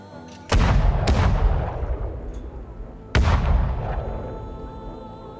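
Period artillery fire booms out in two heavy, close blasts a few seconds apart, each rolling off into a long, fading rumble.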